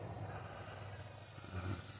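A Freewing F16 V3 RC jet flies in low light, a steady whining ducted-fan hum holding level with a slight swell near the end.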